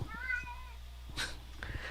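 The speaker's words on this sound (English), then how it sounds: "my cat. This one is really loud" A pet cat lets out a drawn-out, wavering meow up close, then a couple of sharper, shorter cries, all fairly loud against a quiet room.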